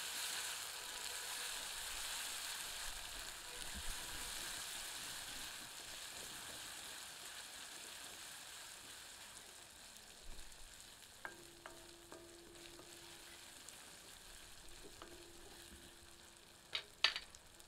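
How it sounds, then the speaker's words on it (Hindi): Onions with ginger garlic paste frying on medium heat, a faint steady sizzle with occasional stirring clinks and a soft tonal hum, no talk. "भुनी प्याज में 1 बड़ा चम्मच अदरक लहसुन का मिश्रण सम्मिलित करते हैं। इसे 2 मिनट मध्यम आंच पर भूनते हैं।"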